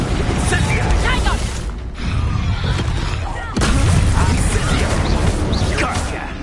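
Spell blasts from Confringo and Incendio crackle and boom in dense, overlapping bursts during Hogwarts Legacy combat, with a loud, busy game mix and a brief lull midway.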